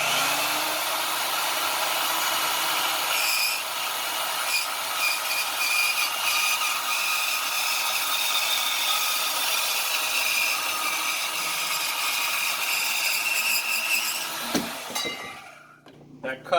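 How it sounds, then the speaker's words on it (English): A power saw cuts steel on an Altima project car, a loud, continuous, high-pitched whine and grinding rasp held for about fourteen seconds before winding down and stopping abruptly, close by, with no one talking. "I've never used one of these saws before, so hopefully this goes well and I can cut straight."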